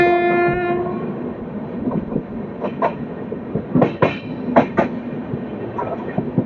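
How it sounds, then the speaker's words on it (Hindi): Diesel locomotive pulling a train past near Bhagat ki Kothi in the evening, opening with a loud sustained horn blast, then rumbling engine and rhythmic clattering of wheels over rail joints. "इधर जा रहे हैं डीजल लोकोमोटिव, डीजल लोकोमोटिव भगत की कोठी भी आ रहे"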